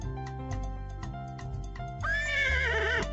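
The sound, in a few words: horse neighing in Pajama Sam 4 video game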